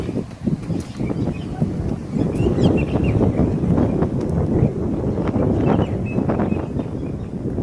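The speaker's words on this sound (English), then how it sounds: "It's a bit of a windy day" Wind buffets the microphone in continuous rough gusts near a massive tree outdoors, loud and close, with faint chirps now and then.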